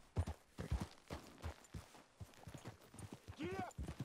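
Hooves clip-clop from a horse being ridden in Red Dead Redemption 2, a western video game, with steady footfalls under a woman's ongoing chatter and a brief rising whistle-like tone near the end.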